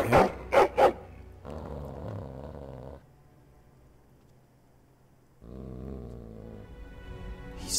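A dog growls low and steady in Dragon Age: Origins while staring at a door, a rumbling sustained growl after a few sharp sounds at the start, dropping out briefly and then resuming.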